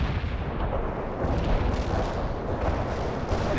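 Artillery barrage in the strategy game World in Conflict, a continuous wash of rumbling booms and crackling blasts at steady loudness throughout, with no voices.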